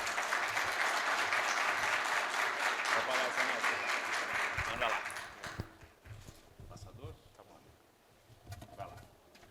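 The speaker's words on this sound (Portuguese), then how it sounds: "Osmar Kodo, uma salva de palmas." Audience applause for a speaker at a Portuguese-language talk on data solutions, a dense burst of clapping that fades after about five seconds into quieter room sounds and scattered claps.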